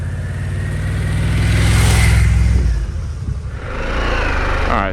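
A Harley-Davidson Pan America 1250 motorcycle engine revs up as it pulls away in first gear, a close, loud mid-pitched roar rising then easing before climbing again.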